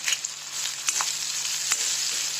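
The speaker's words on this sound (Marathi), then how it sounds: "आता ह्याचा कांदा चांगला भाजला आहे" Onions salted and frying in a pan give a brief, close, steady sizzle with a few light spatula clicks, with no talk.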